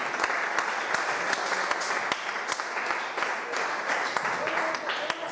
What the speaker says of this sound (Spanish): Démosle palmas a Cristo.